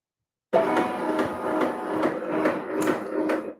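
A sewing machine carriage moves with a mechanical whirring hum broken by a series of rhythmic clicks and clacks, close and steady for about three seconds.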